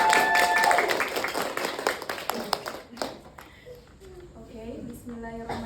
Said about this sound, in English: Clap hand for Aprilia